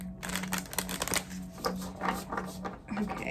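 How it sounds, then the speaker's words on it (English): Tarot cards being shuffled by hand, a run of crisp riffling and flicking card noises with short pauses, close and fairly loud, with a low hum and a faint voice in the background. "Just gonna do one more shuffle."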